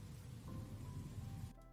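Steady rain ambience hisses and patters continuously, then cuts off abruptly near the end, leaving a quieter tail.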